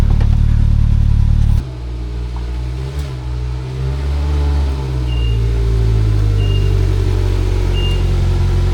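A UTV engine idles loudly, then pulls forward and revs unevenly as the machine drives up onto a trailer, a steady low mechanical rumble with a few faint high chirps over it.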